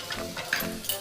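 A spoon stirs leftover rice with tomato sauce in a pan, brief soft scraping strokes over a faint background sizzle, close and quiet with no voices.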